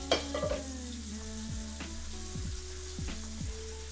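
Marinated meat frying in a pan, a steady close sizzle broken by several sharp scrapes and clinks of a utensil stirring against the pan.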